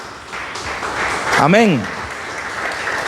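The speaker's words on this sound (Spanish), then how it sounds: "Denle un fuerte aplauso al Señor" Church congregation claps in sustained applause to the Lord, a dense steady patter filling the room while a voice calls out briefly in the middle.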